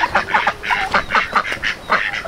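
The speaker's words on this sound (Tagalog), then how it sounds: "May mga duck." Ducks on a farm quack in a quick, irregular run of nasal calls, fairly close and loud, with no talking over them.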